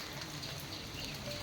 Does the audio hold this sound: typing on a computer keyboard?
no